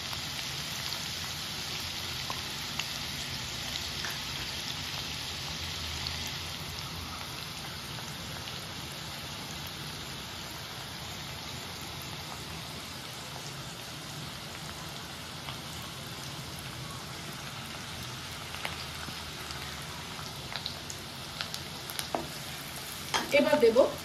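Chopped onion fries in a pan for a Bengali bharta, a low continuous sizzle and crackle that runs close and quiet, with a few louder stirring knocks near the end.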